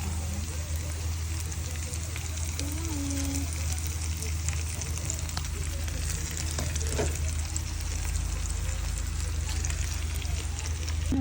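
Shrimp fry in a hot pan with a steady, even sizzle that carries on throughout. A low background hum and a few faint clinks sit under the frying.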